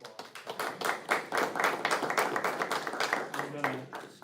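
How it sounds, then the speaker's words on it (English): A board of education meeting audience applauds students, with scattered uneven hand claps that build and then thin out, while a voice talks over part of the clapping. "So big round of applause."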